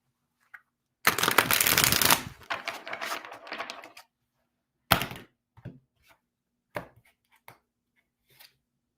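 A tarot deck is shuffled close up in one long crisp riffle, followed by a few scattered taps and softer card handling with pauses between.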